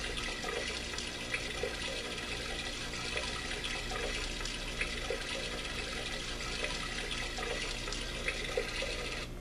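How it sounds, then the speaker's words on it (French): A continuous rush of recorded flowing, trickling water from an alarm clock plays steadily with small splashy flickers, close and even throughout, with no talking. "le ruissellement d'eau,"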